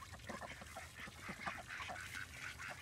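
A flock of ducks on a farm quacking and honking in a busy, continuous chatter, fairly close, with possible rustling from running and flapping.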